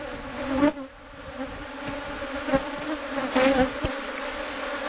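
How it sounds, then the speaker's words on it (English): Bees pour out over the top bars of a tall stack of deep hive boxes during an April inspection, a loud, continuous buzz with brief louder swells as individual bees pass close. "You can see there's plenty of bees covering all the top bars coming out of the hive."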